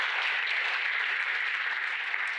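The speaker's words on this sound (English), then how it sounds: "Round of applause for these lovely people." Dense, even clapping from a conference keynote audience, sustained applause filling the whole stretch at a steady level.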